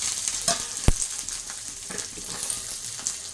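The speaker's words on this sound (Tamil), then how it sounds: "இப்போ கடாய் போட்டாச்சு, அதில் எண்ணெய் ஊற்றிருக்குறோம். ஒரு கட்டி இஞ்சி போட்டுக்கோங்க, ஒரு கட்டி பூண்டு, கொஞ்சம் கருவேப்பிலை" Ginger, garlic and curry leaves frying in oil in a kadai, a steady close crackling sizzle with bubbling and a sharp pop near the start.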